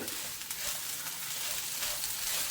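Okra sizzles and fries steadily in a pan with salt and spices, a dense close crackling hiss that holds even and continuous throughout, with no talk.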